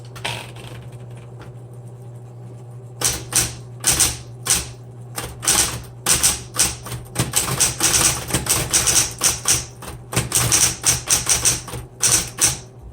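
A 1970s Smith Corona Electra 120 electric typewriter hums steadily on its own, then its keys strike in quick, irregular bursts of loud, close clacks for about ten seconds.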